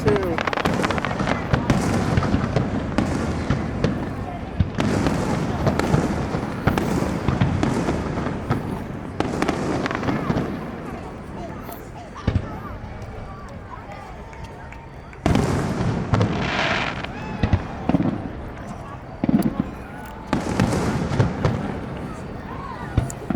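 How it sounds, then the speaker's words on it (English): Fireworks burst over Bridge Street in Manchester, New Hampshire: a dense, continuous barrage of loud booms and crackling pops, with a brief lull before the finale. Crowd voices chatter throughout. "This fireworks is too much."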